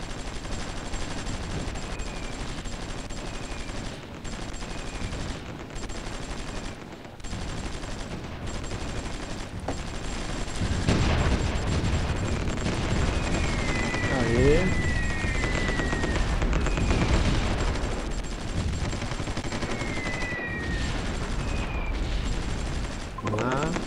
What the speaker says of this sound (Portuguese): Regaça essa artilharia.